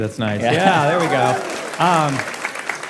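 An audience at a live podcast taping claps for a comedian, the applause sitting beneath loud, close talking that runs over most of it.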